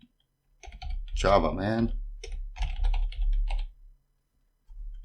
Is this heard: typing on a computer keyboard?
yes